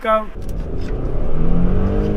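A twin-turbo V6 engine in an Audi Allroad Quattro with a manual gearbox revs up and holds a rising, throaty drone after a brief harmonic whine at the start, fairly loud and close.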